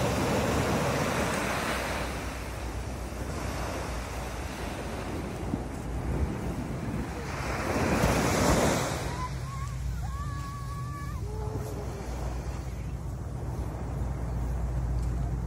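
Atlantic Ocean surf breaking on a Florida beach, a steady broadband wash with louder swells around two and eight seconds, mixed with wind rumble against the microphone and a few faint tonal chirps late on.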